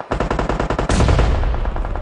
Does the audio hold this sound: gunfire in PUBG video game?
yes